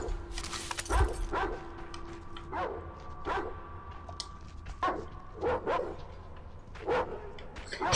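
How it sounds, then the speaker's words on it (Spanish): Dogs bark repeatedly in the Metro Exodus video game, sharp bursts spaced across the scene with a few whimpering yips, fairly close and with no talk over them. "Es que mira a los perros"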